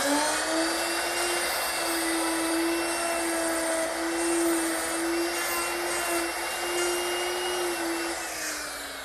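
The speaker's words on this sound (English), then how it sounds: "I've made a little jig to guide my router, and the router is equipped with a 1/2-inch mortising bit" A router fitted with a 1/2-inch mortising bit, guided by a jig, cuts hinge mortises in wood, a loud steady high whine that holds for several seconds and eases off at the end, no voices.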